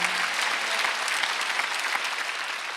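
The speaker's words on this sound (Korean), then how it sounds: "박수하세요" A church congregation at a Sunday worship service claps together in a dense, even burst of applause that carries on throughout, fairly loud and close, with no voices over it.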